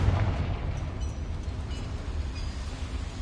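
The Confringo fire spell from Hogwarts Legacy explodes inside a mine, a deep rumbling boom that opens loudly and rolls on as a heavy, sustained low roar.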